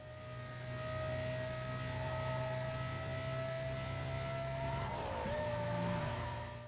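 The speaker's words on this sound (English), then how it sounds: "From the insanely awesome sounding F1 engine," Porsche Carrera GT engine in the racing game Need for Speed Most Wanted, a sustained, loud high-revving wail that holds steady and then drops sharply as if shifting gear, before climbing again.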